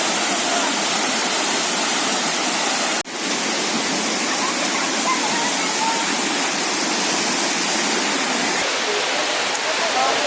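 Bega Falls, a tropical waterfall in Prosperidad, Agusan del Sur, roars as a steady, loud broadband rush of falling water, continuous and close with no voices over it.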